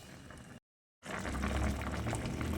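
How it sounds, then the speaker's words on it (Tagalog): Bangus paksiw, a milkfish stew, bubbles and simmers in a pot with a soft continuous seething burble, briefly cut to silence before the boiling resumes, a little fuller and louder. "So kumukulo na mga ka-reels."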